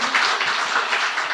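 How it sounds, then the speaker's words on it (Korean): An audience at a Catholic book concert applauds the 59th class of graduates: a steady, continuous patter of many hands clapping, fairly close and even in level throughout. "59회 우리 졸업생들 위해 박수 한번 주세요."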